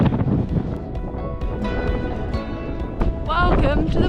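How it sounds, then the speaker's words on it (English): Strong wind buffets a hilltop in the Black Mountains, a steady broadband roar thumping against the microphone, swelling louder near the end, with a voice muttering underneath. "The wind picked up dramatically"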